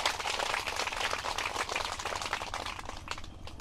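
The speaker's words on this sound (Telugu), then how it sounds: "గట్టిగా చప్పట్లు కొడదామండి." An audience clapping loudly: dense, continuous applause with rapid overlapping hand claps, close and fairly even, fading slightly toward the end.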